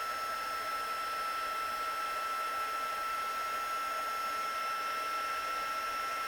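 A craft heat tool blows hot air in a steady, unbroken whoosh with a thin whine on top, running loud and close for the whole stretch with no talking.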